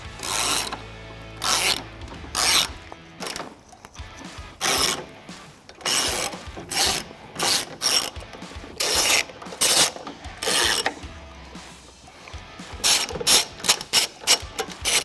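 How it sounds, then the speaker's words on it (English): A ratchet loosens the 15mm fasteners on the rear crash beam of a Volvo XC90 during a trailer hitch install, in repeated short bursts of rapid clicking separated by brief pauses, close and loud, with no speech. "You can now remove the crash beam by removing 3 15mm fasteners on each side."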